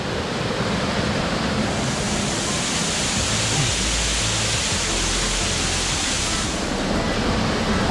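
Strong, steady rushing water, unusually high, roars close by along a hiking trail, a dense continuous wash with no pauses.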